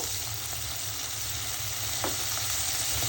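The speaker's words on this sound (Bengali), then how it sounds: "মশলা ভাজা হয়েছে" Steady, crackling sizzle of spices frying in hot oil, close and continuous, with a faint clink partway through.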